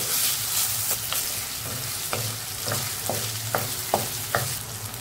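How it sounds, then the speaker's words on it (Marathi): Tomato sautéing in oil with ginger garlic paste, a steady sizzle broken by a string of regular spoon scrapes against the pan, near and clear. "आता 1 टोमॅटो मऊ होईपर्यंत परतून आपल्याला घ्यायचं आहे"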